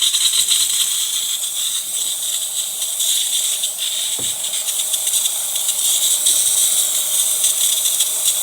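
Steady, loud steam hiss from the wand of a new DeLonghi espresso machine, continuous and close with faint rattling underneath and no talking.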